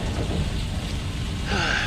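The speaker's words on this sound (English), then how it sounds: "It is not good to just stand in dumping rain like that." Heavy rain pours steadily in the video game Skyrim, a dense, continuous wash of noise that stays loud throughout with no pauses, the downpour alone and no voices over it.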